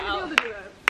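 Two sharp claps from a small group at the close of an ab workout session, about half a second apart, with a voice talking underneath.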